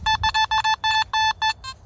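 Nokta Makro Simplex metal detector giving a signal: a rapid series of about nine short, clear electronic beeps in uneven bursts, close and loud, with no talking.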